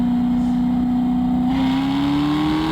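A Dodge Hellcat and a Corvette ZR1 accelerate hard in a rolling race, heard as a loud, continuous engine drone whose pitch climbs steadily as they pull, with no voices over it.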